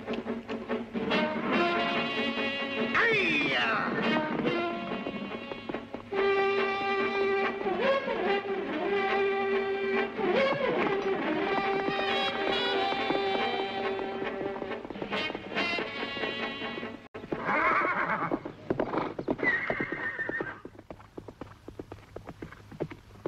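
Horses galloping in a race in a 1966 film, a steady drumming of hooves throughout, partly under a dramatic orchestral score, with a shout near the end.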